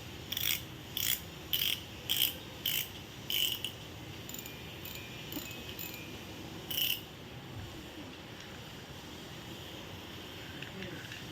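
A fishing reel for river fishing turns, sending out a regular run of short metallic ratchet clicks at first, then one more click after a pause, over a low steady background hum.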